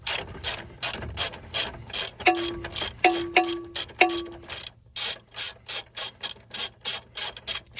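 Hand ratchet loosening a bolt on a fourth-generation Ram truck, rapid rhythmic clicking strokes in bursts, with a few brief metallic squeaks partway through, close and clear.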